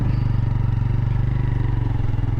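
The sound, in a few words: TVS Raider motorcycle riding, making a U-turn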